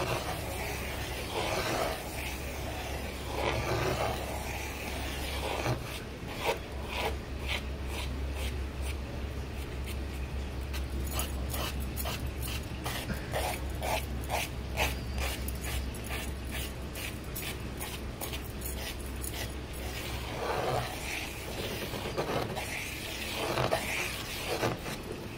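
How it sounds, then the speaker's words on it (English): A bamboo stick scrapes into textured paste on an art panel, making a run of rapid, rhythmic scratchy strokes in the middle stretch, close and fairly quiet against soft background noise. "Let me just go take a bamboo stick and see if I can maybe scrape into this."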